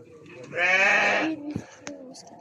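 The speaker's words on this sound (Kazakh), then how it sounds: "Мына жерлерде ешкі малдары тұр." A single drawn-out goat bleat, loud and close, lasting under a second, followed by a few soft knocks and faint rustling.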